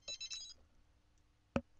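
A telephone in the video game The Sims Life Stories gives a short, quiet electronic ring, a brief burst followed by a single sharp tone a moment later.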